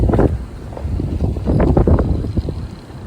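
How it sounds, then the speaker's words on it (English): A strong wind gust roars across the microphone outdoors in Utah, a broad, loud rushing that swells and buffets for a few seconds with no talk. "There's another good wind gust."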